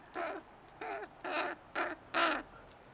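A crow caws five times in a steady series of harsh, evenly spaced calls, close and clear with no talk.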